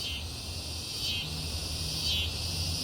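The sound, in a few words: cicadas screaming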